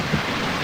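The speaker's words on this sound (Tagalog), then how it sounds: "ang lakas na ng ulan, no?" Heavy rain pouring down in a steady, dense roar that fills the whole moment, loud and continuous with no break.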